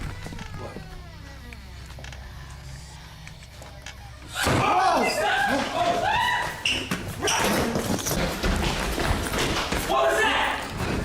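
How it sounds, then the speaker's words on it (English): A door slams open with a sudden heavy bang, followed by a burst of loud, clattering impacts and thuds; voices speak at points around the noise. "A door slams open by itself."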